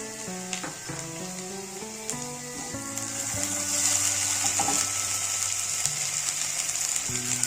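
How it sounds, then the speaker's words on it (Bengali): Ground chilli paste fries in a pan for an ash gourd and egg dish, giving a continuous loud sizzle with occasional stirring clicks, while a stepped melodic tone runs underneath and no one speaks. "লঙ্কা বাটা দেব।"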